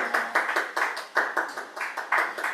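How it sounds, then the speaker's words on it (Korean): A church congregation claps in support and thanks during a Sunday service. The hand claps are distinct and close, coming in a quick, fairly regular rhythm with no talking. "저희가 응원과 감사의 마음으로 박수를 한번 쳐드리면 어떨까 싶습니다"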